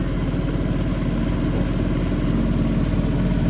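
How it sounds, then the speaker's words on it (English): A model mill-type steam engine with a spinning flyball governor runs at a steady idle, giving a continuous low rhythmic chuffing and mechanical thrum, close and constant, at a harvest reunion show. "This thing that's spinning is called a flyball governor that basically controls the speed of the steam engine."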